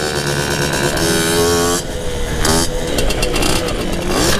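A small moped engine revs loudly nearby, its pitch rising and falling in buzzing surges with a brief dip partway through.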